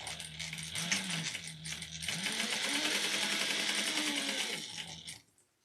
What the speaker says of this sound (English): I'm going to baste it on at 1/4 of an inch or 1/8 of an inch